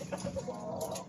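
Farmyard chicken clucking in short repeated bursts, fairly close and steady over about a second, with a busy rural background around it.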